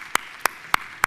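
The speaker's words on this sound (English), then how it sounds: "So I want you to give yourselves a big round of applause for doing a great job." Four sharp, evenly spaced hand claps ring out in a conference session room, crisp and fairly close, with nothing else going on between them.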